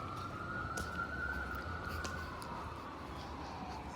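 An ambulance siren wails steadily in the distance in Los Angeles, its tone slowly sliding, over a low hum of background noise.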